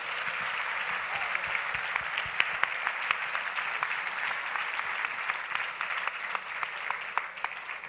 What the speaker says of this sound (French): Je pense qu'elles méritent un applaudissement parce qu'ils ont fait un très beau travail.